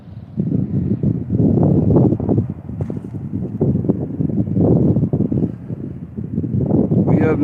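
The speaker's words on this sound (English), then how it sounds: "Very windy." Strong gusts batter a mountain summit, roaring and buffeting close in loud, uneven surges with no talk heard.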